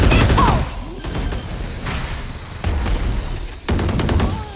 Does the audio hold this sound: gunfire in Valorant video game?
yes